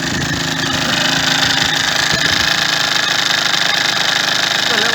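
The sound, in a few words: motorcycle engine idling with hammering noise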